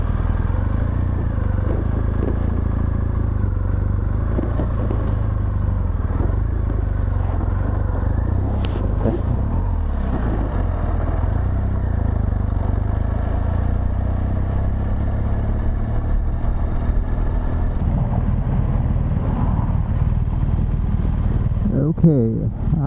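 Motorcycle riding on Motoz Tractionator Adventure tires, a steady low engine drone with wind rumble throughout, and a rider talking over it at intervals.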